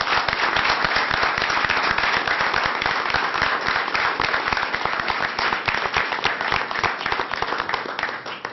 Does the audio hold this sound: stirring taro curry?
no